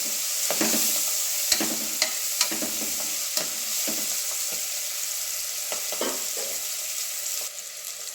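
Fenugreek leaves fry in oil after onions for a village-style keema curry, giving a bright continuous hiss with sharp scraping stirs spaced every second or so, then settling quieter near the end.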